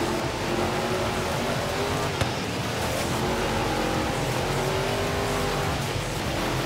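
A car is driven hard over dirt in the racing game Forza Horizon 3, its engine droning steadily and loudly throughout, with tire noise and a faint tonal whine layered over it.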